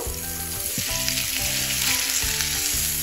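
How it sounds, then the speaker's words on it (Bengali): Okra fries in hot white oil in a kadai, giving a loud, close crackling sizzle with bursts of spitting, under a steady background tone and with no talking. "এবার ভেন্ডিটা আমি ভেজে নিচ্ছি।"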